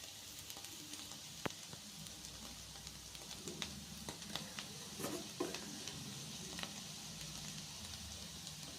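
Bitter gourd pieces fry in a pan, a soft, quiet sizzle broken by scattered spatula scrapes and small taps, no talk over it.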